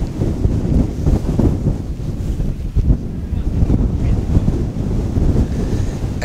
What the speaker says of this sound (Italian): si è rifatto vivo il vento